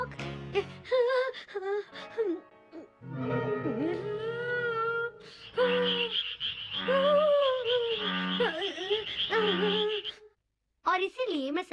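Cartoon bullfrog croaking, voiced in a Hindi-dubbed Shinchan episode, with drawn-out wobbly croaks alternating with animated character speech across the scene.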